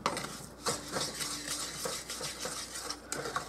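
A utensil stirs and scrapes through a melting mixture for saltine cracker candy in a pot, with irregular close clinks and a light sizzle underneath and no speech.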